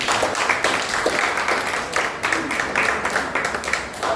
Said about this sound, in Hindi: अभी परमेश्वर के लिए जोरदार तालियां।